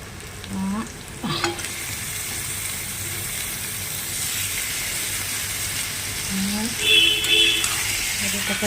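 Pieces of goat meat hiss and sizzle as they drop one by one into hot oil in a pan on a gas stove, a steady close frying crackle with someone talking over it.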